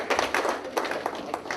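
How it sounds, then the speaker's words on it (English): An audience at an inaugural club event applauds itself, dense overlapping hand claps in a steady patter lasting throughout, moderately loud and close with no voices on top. "Let's clap for yourself."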